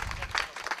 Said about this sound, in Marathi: एकदा या तरुणांकरता सर्वांनी जोरात टाळ्या वाजवायच्यात.